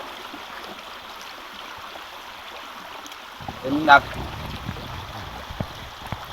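A stream of water flows steadily outdoors, a soft continuous rush, with a brief splash or gurgle and a person speaking quietly partway through.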